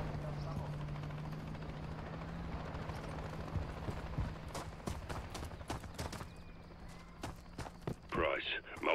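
Helicopter rotor thumping steadily in the distance during a Modern Warfare III campaign mission, with footsteps and rustling movement close by and speech passing over the top.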